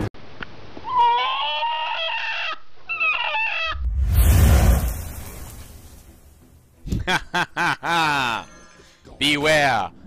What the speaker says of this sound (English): Beware of the chicken.